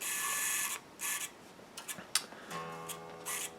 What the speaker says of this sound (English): It'll actually go until it senses the tension, and then it'll tune.